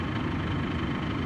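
Telehandler engine idling in a farm workshop during a Chamberlain C-6100 dual wheel job, a steady low rumble filling the short clip with no talk.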